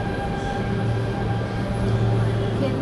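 A Shanghai Line 10 subway train pulls in with a loud, continuous rumble and a steady tonal whine from the wheels and motors, filling the station without a break.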